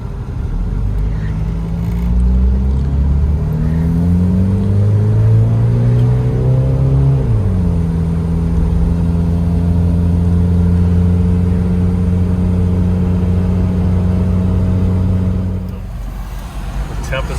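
A Toyota Land Cruiser Prado turbo diesel on the road, its engine droning as it climbs through a gear with rising pitch, then drops to a steady, even cruising rumble under light talk until a brief lull near the end.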